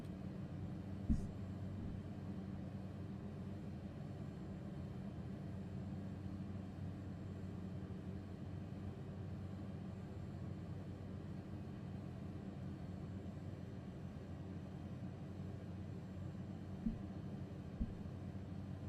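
Steady low engine drone of an airliner on approach to a runway in Microsoft Flight Simulator 2020, a constant rumble with a couple of faint clicks, no other sounds on top.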